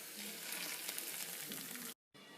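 Fried garlic tasha sizzles steadily as it is tipped into a pot of Egyptian molokhia, a dense hissing crackle that cuts off abruptly for a moment near the end.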